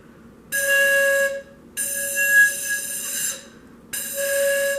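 A skinny cylindrical tube is blown three times, each a breathy, reedy whistle tone of about a second with short silences in between.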